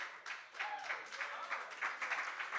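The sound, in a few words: audience clapping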